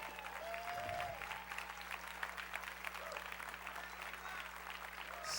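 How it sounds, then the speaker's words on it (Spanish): Congregation applauding the Lord during an evening church service led by a pastor, a steady broadband clapping wash that holds for several seconds with murmuring voices and faint tones beneath it. "toma un momento y dale un fuerte aplauso al Señor"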